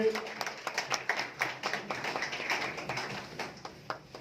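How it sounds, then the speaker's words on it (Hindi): Applause at a Shirdi celebration gathering after a talk, a crowd clapping in a steady patter of overlapping claps that carries through the moment with a few voices mixed in. "जोरदार तालियों से"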